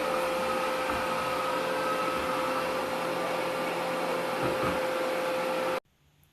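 A Kogan R40 robot vacuum cleaner runs with a steady, close whirring motor hum and a constant high tone, then cuts off abruptly near the end.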